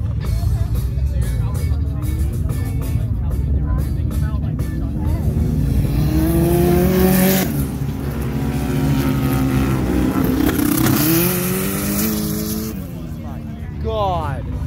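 Drag racing vehicles roar at the Glamis dunes drags during a Veterans Weekend event, a loud sustained engine note rising and falling across the run, heard from the crowd with excited spectators talking over it throughout.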